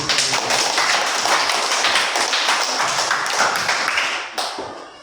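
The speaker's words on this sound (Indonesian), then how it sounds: "tepuk tangan buat Tripu." A class of young pupils claps their hands together in a sustained burst of dense, fast applause that fills the room. It fades slightly near the end.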